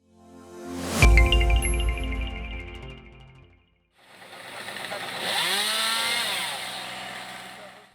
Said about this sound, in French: Ces travaux peuvent être réalisés à l'aide d'une tronçonneuse sur nacelle.